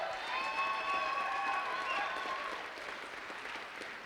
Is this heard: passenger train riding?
no